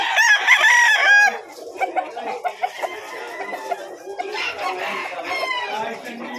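Chickens at Malabon Pet Market: a loud, close rooster crow opens, followed by scattered clucks and calls from several birds in a busy, echoing market space.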